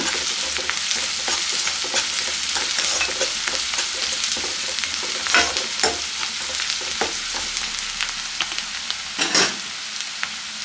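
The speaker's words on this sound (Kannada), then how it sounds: "ಇದನ್ನ ಚೆನ್ನಾಗಿ ಮಿಕ್ಸ್ ಮಾಡ್ಕೊಳ್ಳೋಣ." A spoon scrapes and stirs seasoned garlic rice mixture in a hot pan, repeated clinks and scrapes over a constant frying sizzle, close and fairly loud.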